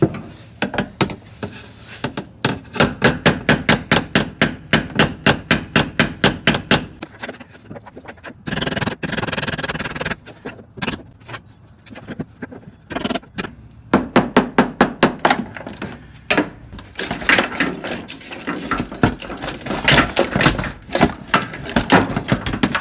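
Rapid, evenly spaced metallic knocks loosen the fuel pump retainer on a Ford Ranger fuel tank, coming in close, loud bursts separated by short pauses and scraping.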